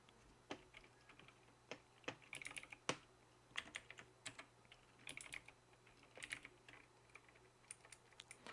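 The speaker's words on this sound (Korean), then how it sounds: "저도 지금 이 모니터를 보면서 타이핑을 하니까 조금 헷갈리는데요." Rapid typing on a computer keyboard while filling out an invoice document, irregular bursts of close, crisp key clicks with short pauses, no talking.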